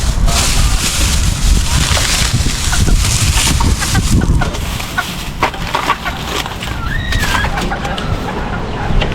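Chickens cluck outdoors amid steady wind and background rustle, with people talking nearby throughout; one brief, faint higher call rises near the end.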